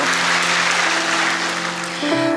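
A church congregation claps at a baptism service, dense broadband applause filling the room while sustained musical tones hold underneath and shift near the end.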